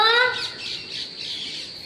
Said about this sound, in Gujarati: પોપટને પોપટ કેવા આવડું છે.